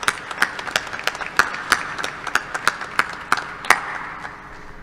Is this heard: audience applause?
yes